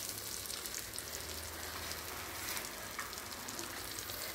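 Onions sizzling in hot oil with bay leaf and ginger, a steady close crackle and hiss of frying that runs unbroken and even throughout, with no one speaking.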